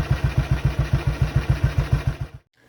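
A 1951 Matchless G80S engine runs on its centre stand in gear with the rear wheel spinning free, giving a close, loud, even chain of thudding beats before it abruptly cuts out.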